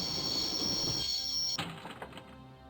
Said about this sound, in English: I always wanted to stop a train.